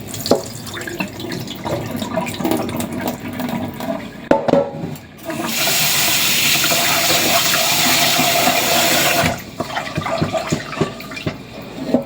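Tap water runs and splashes in a kitchen as rice is rinsed, with dripping and handling noises, then a steady, louder stream pours for several seconds before cutting off back to drips and sloshing.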